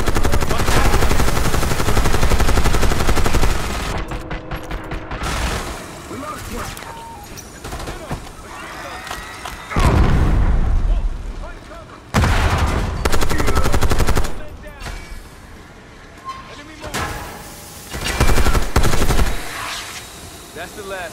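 A minigun fires in long, loud roaring bursts in the shooter Black Ops 6, separated by short lulls with helicopter rumble, while voices speak between the bursts.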